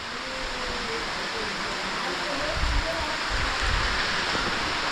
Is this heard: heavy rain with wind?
yes